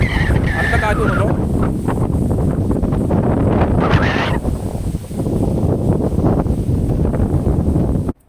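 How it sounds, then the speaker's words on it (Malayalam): A strong gust of wind roars across a hilltop at Kattadikadavu, buffeting the microphone loudly and continuously for several seconds, with a voice briefly audible beneath it before it cuts off. "അടുത്ത കാറ്റ് വന്നല്ലോ"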